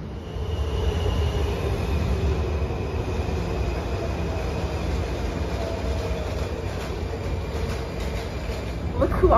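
A metro train rumbles steadily through a station, with a constant low roar and faint wheel squeal throughout and a brief louder burst at the very end; voices are faintly mixed in.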